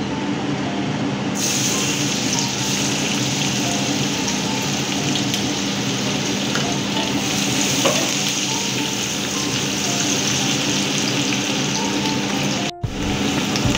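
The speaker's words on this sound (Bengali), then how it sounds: "পেঁয়াজটা হালকা দেখবে যখন ফ্রাই হয়ে আসছে" Chopped onion frying in oil and butter in a wok, a continuous dense hiss of sizzling that holds steady and loud, ending with a brief clatter near the close, no talking.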